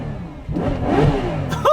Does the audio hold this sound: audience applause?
no